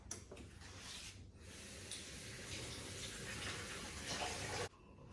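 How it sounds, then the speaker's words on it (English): Tomatoes of mixed red varieties are rinsed under a running kitchen tap, a steady close hiss of flowing water that shifts as the stream hits them, then cuts off near the end. "I'm going to give these a quick rinse."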